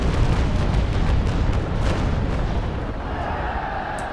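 Naval Action video game naval battle at Isla Morada with cannon fire, a loud, continuous, dense booming rumble that stays heavy throughout and eases slightly toward the end.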